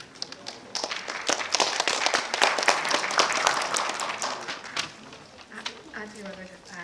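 Applause from the audience at a political party event, a clear spell of many hands clapping that swells, holds, then thins out and fades.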